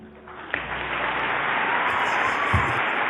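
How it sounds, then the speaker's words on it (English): Applause and cheering from a large audience at a commencement speech rise and swell into a sustained, even ovation that fills the whole stretch. "He got an ovation for that?"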